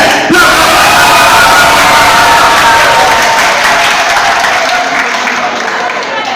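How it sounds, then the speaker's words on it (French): A loud crowd at a church match event claps and cheers with whoops and yells, the applause sustained and close throughout. "De vous applaudir."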